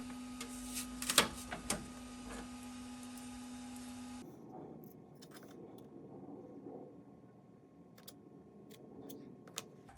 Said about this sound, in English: so let's get that 3D printed.